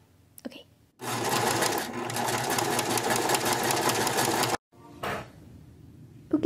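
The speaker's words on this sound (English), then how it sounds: "So start with this one, do two rows of a basting stitch." A sewing machine runs a continuous buzzing stretch of basting stitch rows on tulle for a petticoat, starting and stopping abruptly, followed by a shorter burst and a few clicks of handling.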